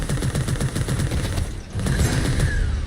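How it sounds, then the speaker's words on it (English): Rapid bursts of gunfire in the video game Bounty Star, shots firing in quick repeated volleys with a short lull before another sustained stretch of shooting, loud and close. "Just shoot him as much as we can from afar."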